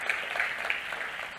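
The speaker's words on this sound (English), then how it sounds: "Big round of applause, and let's get us started." Audience applause at a talk on AI and open technology, a steady wash of clapping from a crowd filling the short moment, with no voices heard.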